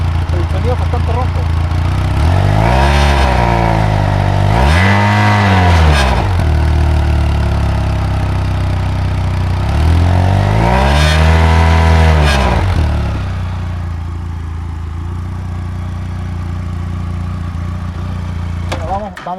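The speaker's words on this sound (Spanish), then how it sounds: "Acá tenemos entonces el sonido de la moto, un sonido bastante agradable" A Benelli TRK 502 X motorcycle engine revs through its exhaust with a deep, hoarse note, rising and falling in three loud revs before settling back to a steady idle.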